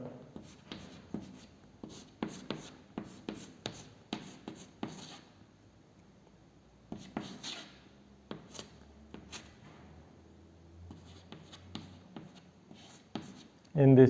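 Chalk or marker strokes on a board as chemical structures are drawn, quick rhythmic scratches in bursts with pauses, close and fairly quiet, and a voice talking in between.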